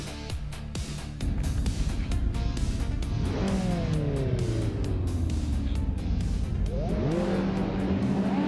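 Race cars at Queensland Sportsman Track in a racing video game, engines revving loudly and whining as they shift up through gears, with several cars passing close in a continuous roar.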